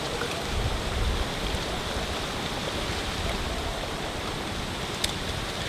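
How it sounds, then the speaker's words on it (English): Beer poured from a can into chilled steins gives a continuous close foamy rush and fizz, steady and fairly loud from start to finish with no talking. "It's time that we crack this open, and we'll pour it out into these nicely chilled steins here."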